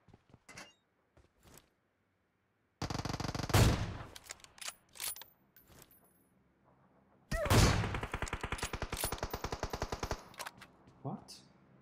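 Machine-gun fire in the PUBG Mobile battle royale game comes in two long, rapid bursts of loud, close automatic shots, with scattered single cracks and faint clatter in the quieter gaps between them.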